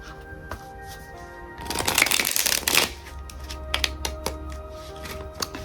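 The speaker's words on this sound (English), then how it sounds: "I'm going to be cleansing my tarot deck and giving it a good shuffle" A tarot deck riffled in one brisk burst, close and crisp, surrounded by light tapping and handling noises over a faint steady hum.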